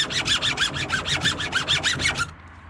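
A chainsaw chain is sharpened with a hand file in a file guide, giving a rapid series of about a dozen rhythmic rasping strokes, close and fairly loud, that stop abruptly near the end.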